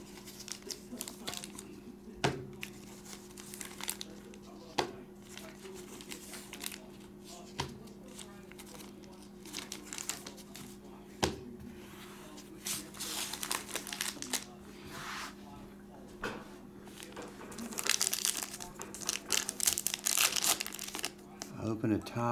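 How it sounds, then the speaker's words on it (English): Trading card packs of 2023 Topps Chrome Black Star Wars are peeled open, with faint intermittent crinkling and tearing of foil wrappers under a low steady hum, and a louder burst of crinkling toward the end. "we'll peel out the packs"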